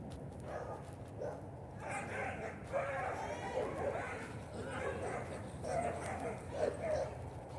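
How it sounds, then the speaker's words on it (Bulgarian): Several dogs bark and yelp at a distance in a loose, irregular chorus, heard faintly through outdoor ambience while someone talks over them throughout. "Говорят си кучетата на висок глас."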